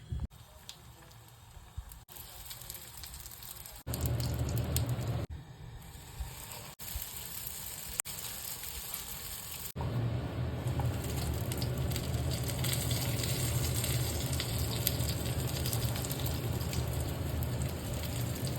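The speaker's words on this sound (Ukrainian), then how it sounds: "Тепер розігріваємо сковородочку і починаємо смажити." Steady sizzling and crackling of rice-and-egg filled pies frying in a hot pan, growing louder partway through and continuing without talk.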